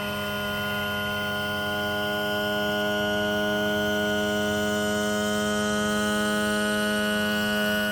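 Electric tilt/trim motor on a Yamaha outboard running steadily as it cycles the engine up and down, a continuous whining hum with strong tonal harmonics that holds even and loud throughout, with no talk.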